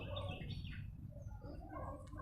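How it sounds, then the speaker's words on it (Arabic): Small birds chirping and tweeting nearby in a garden in Rabat, over a low, busy background rumble. "شوفوا الطيور تبارك الله"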